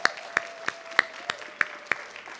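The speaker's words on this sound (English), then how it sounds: "Please give a great big round of applause to the AltaSea team." A small audience at an AltaSea open house in San Pedro claps in a sparse, steady rhythm, with individual sharp claps spaced about a third of a second apart over a faint hum.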